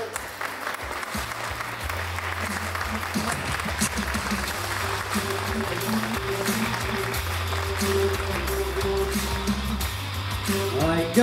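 An audience at a Super Formula racing presentation in Tokyo's Hibiya district claps steadily and warmly for several seconds as a champion driver is welcomed, with music playing underneath the dense applause.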